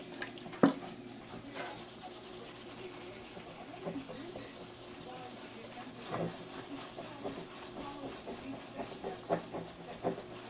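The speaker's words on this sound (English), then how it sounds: "I'll go ahead and clean the excess heatsink material off of the heatsink" A cloth wipes excess heatsink compound from a heatsink using acetone, making soft, close rubbing strokes with a few scattered clicks and taps over a quiet workshop background.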